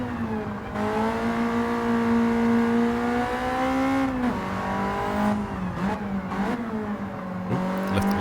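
Racing video game car engine running at high revs with a steady whining tone, pitch holding then dipping and climbing again as turbo boost kicks in, loud and continuous with no talk over it.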